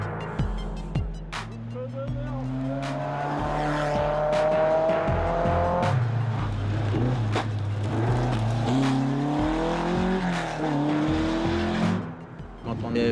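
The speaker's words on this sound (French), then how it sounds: "les turbulentes, les mythiques Alpines, sacrées championnes du monde des rallyes" Alpine rally cars racing at the Tour Auto 2007, engines revving and roaring continuously with pitch rising and falling through gear changes, loud and close with sharp passing bursts throughout.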